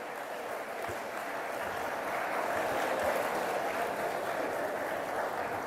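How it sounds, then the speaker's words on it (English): An audience at a college commerce department valedictory ceremony gives a round of applause for the winners, a steady, even wash of clapping held for several seconds, somewhat distant, with no one speaking over it. "Let's give a huge round of applause for the winners."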